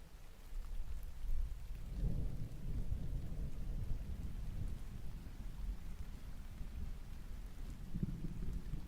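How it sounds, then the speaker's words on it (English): A thunderstorm rumbles with low rolling thunder over steady rain, a continuous dense wash of sound heard from indoors at moderate loudness. "I can't help it if my storm is doing this to you."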